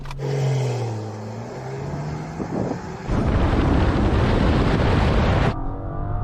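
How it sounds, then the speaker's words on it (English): A Rolls-Royce Dawn convertible pulls away from a standstill under full acceleration. The engine note rises steadily, then turns into a loud, broad roar of wind and road noise that holds for a few seconds before easing. "Finally then, let's launch the car."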